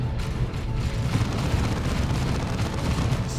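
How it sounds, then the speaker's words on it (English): A grenade blast in Dawn of War 2 as a heavy, rumbling boom that fills the whole moment, with battle noise churning around it. "Enemy grenade!"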